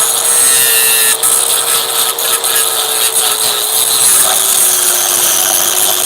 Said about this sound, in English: Take the tip of your grinder,